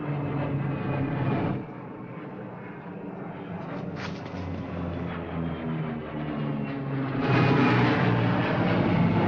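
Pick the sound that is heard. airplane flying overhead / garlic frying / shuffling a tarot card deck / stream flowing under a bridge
airplane flying overhead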